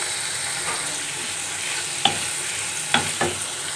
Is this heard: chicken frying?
yes